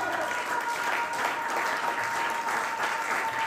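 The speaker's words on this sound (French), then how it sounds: "Est-ce que vous pouvez célébrer cela avec vos acclamations?" A church congregation at a French-speaking Easter service bursts into full, continuous applause, many hands clapping evenly and loudly with no gaps.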